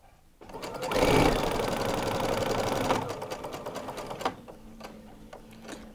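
Close sewing machine running steadily as it stitches around a fabric Christmas gift bag, a loud buzzing whir for about two seconds that eases off, then slower stop-start stitching and faint clicks.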